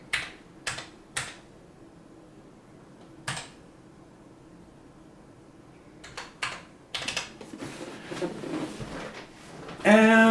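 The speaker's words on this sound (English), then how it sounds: "And you'll type in your serial number." A serial number typed on a computer keyboard, a few separate key taps, then a denser run of clicks, close and fairly loud in a quiet room.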